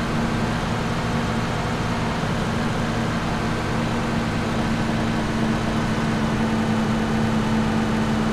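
A car engine drives in the video game PUBG with a constant low, humming drone at even volume throughout, with no talking.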